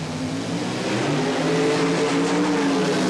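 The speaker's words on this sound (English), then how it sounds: "Another matchup of dragster versus funny car." Drag race between a front-engine dragster and a funny car at the 1977 NHRA Springnationals, a loud sustained engine roar with rumbling low harmonics that builds and holds steady throughout.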